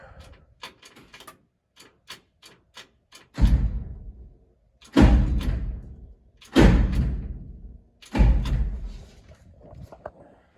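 An old International Harvester R-190 engine clicks a few times, then tries to turn over in four heavy, labored bursts that die away without catching, the engine stuck.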